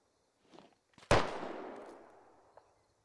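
A single sharp gunshot cracks out from a firefight in the military shooter Squad, trailing a long ringing reverberation, with a couple of soft thuds before it and a faint distant pop afterward.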